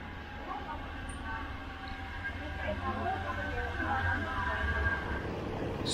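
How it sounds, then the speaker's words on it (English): Steady low rumble of a train running along the River Kwai line from Kanchanaburi in western Thailand, with a continuous drone and faint rattling throughout; voices murmur faintly in the background. "So, we're on a train from Kanchanaburi in Western Thailand"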